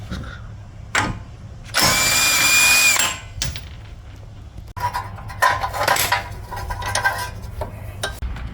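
A power tool with a 30mm socket spins off the axle nut on a 1997 Toyota RAV4 in a loud whirring burst of about a second, followed by quieter metallic clinks and tool handling.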